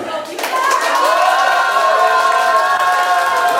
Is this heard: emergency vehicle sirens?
no